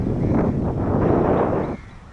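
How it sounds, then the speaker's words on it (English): Strong wind blows across a seaside area in Pontian where the seawater is brownish, roaring steadily against the microphone and easing off near the end. "It's very windy on this area"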